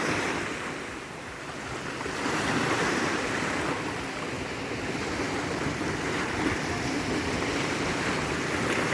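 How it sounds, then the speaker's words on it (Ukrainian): Steady roar of Black Sea waves washing onto the shore at Odesa, continuous and fairly loud, with a breezy wash throughout and no voices. "Сяду я на цій лавці та й посижу, подивлюсь на море, послухаю море"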